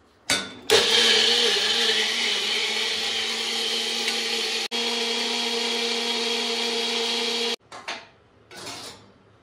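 An electric blender grinding mango with yogurt and sugar, a loud steady whirring motor running for about seven seconds with a brief cut mid-run, then stopping and giving two short pulses.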